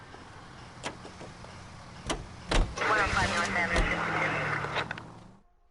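Car driving in the video game L.A. Noire: a steady engine hum that swells and rises in pitch midway, with a few sharp knocks, then cuts off abruptly near the end.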